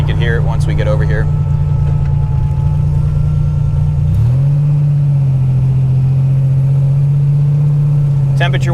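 A 1987 Buick Grand National engine idles close by with a steady low rumble, its pitch shifting briefly midway before settling, while someone talks over it.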